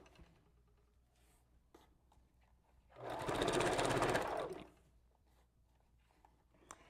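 A sewing machine back-stitches a wig bundle in a single burst of close, rapid whirring lasting under two seconds, set against a quiet room with faint handling clicks.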